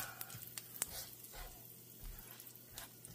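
Garlic butter coating a hot griddle gives a faint, steady sizzle with small crackles and pops, close by and quiet, with no voices.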